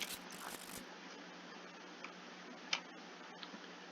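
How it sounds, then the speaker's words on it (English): A deck of cards for the Arkham Horror card game is shuffled, giving a steady soft riffling hiss with a few sharp ticks and clicks, moderately quiet and with no talking. "Let's give that a shuffle."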